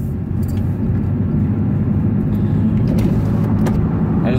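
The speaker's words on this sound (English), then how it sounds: "Hey, truck." A motor vehicle rumbles past with a steady low engine drone that holds loud and close, no talk over it.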